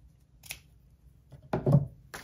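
Scissors snip through decorative ribbon for a junk journal: one short cut, then a louder, longer crunching snip close by, with a brief third at the end, in a quiet room.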